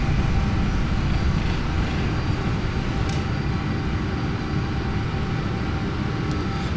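Jet engines of a PMDG 777-200F freighter at takeoff in a flight simulator, a loud continuous roar with a dense low rumble that stays steady throughout, with a couple of faint clicks on top.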